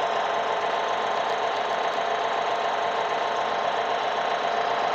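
A tractor engine from the Farming Simulator 14 mobile game runs steadily while reversing, a constant dense mid-range drone with no talk over it.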